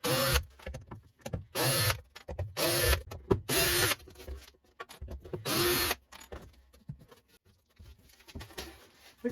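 A powered screwdriver with a T15 bit whirs in several short bursts, backing screws out of a package, each burst a second or so long with pauses between, close and without talk.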